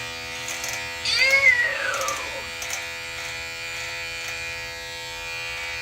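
An electric shaver hums with a steady, close, even buzz throughout, and a cat's drawn-out meow rises over it briefly early on.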